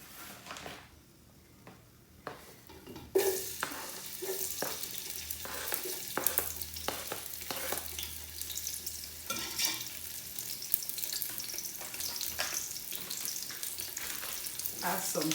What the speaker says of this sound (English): You don't need much oil, just a little. And we'll add our chopped onions.